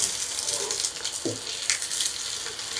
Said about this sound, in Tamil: மிதமான சூட்டில் இதை ஃப்ரை பண்ணிவிடுங்க.